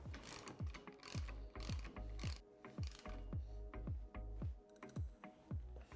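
A hand ratchet tightening bolts with nylock nuts on a Polaris RZR XP 4 1000 UTV, giving a close, quiet series of rapid clicking strokes in an even repeating rhythm.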